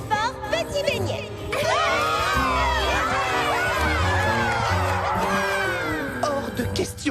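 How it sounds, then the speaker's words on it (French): A cartoon crowd at a children's fashion show cheers and shouts excitedly, with high, squealing voices and lively hubbub swelling over a backing music bed. "Je vous demande d'applaudir bien fort, Petit Beignet!"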